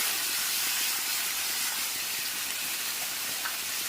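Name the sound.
loitta fish added to a hot pan, sizzling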